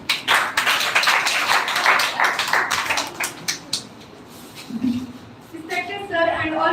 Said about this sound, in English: So please clapping for Miss Tanya